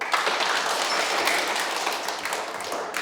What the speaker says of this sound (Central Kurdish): چەپڵە لێدەن